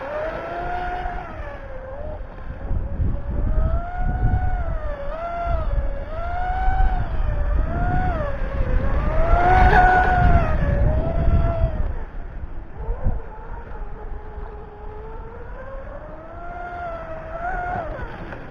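A Vector SR80 Pro radio-controlled boat runs steadily across water, its small motor whining continuously and shifting in pitch as it carves tight turns, loud and sustained throughout.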